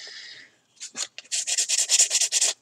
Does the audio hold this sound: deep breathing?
no